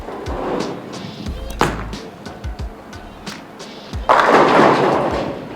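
A bowling ball thrown down a well-worn alley lane, with scattered thuds and knocks in the background before a loud, sustained rolling rumble near the end.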